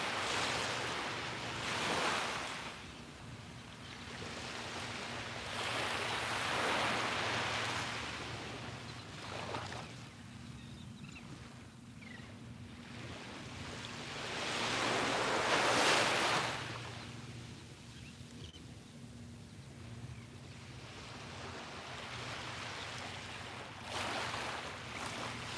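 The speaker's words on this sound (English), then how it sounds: "Soak in all these colors and the sounds of the waves" Ocean waves break on a shore beneath a scenic open-sea view, with broad surging washes that swell and recede in slow cycles, loudest midway, along with steady wind noise and no talk.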